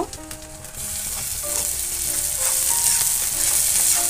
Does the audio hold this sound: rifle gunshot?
no